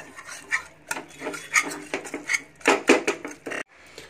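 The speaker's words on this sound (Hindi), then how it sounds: "अब इसको हम लोग अच्छे से पहले इसमें मेस लेते हैं।" Cooked pav bhaji vegetables mashed in a pan, with uneven scraping and soft thuds of the masher against the metal, close and moderately loud, no talk.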